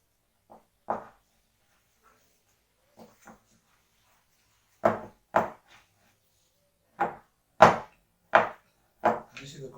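Cinnamon roll dough mixed with a spatula in a bowl, a run of separate dull thuds and scrapes, sparse at first and then in a steadier rhythm of strokes, close and fairly loud with quiet between them.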